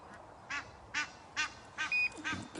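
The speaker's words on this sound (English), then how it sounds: "The geese are calling over here." Geese call out near a carp-fishing spot, a series of five loud, nasal honks spaced roughly half a second apart, the last few tumbling closer together, with no talk over them.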